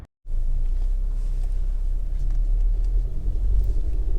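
Honda CR-V 1.5 VTEC Turbo EX CVT 4WD automatic driving on a road, heard as a steady low rumble of engine and road noise from inside the car, loud and continuous after a brief silence, with no talking.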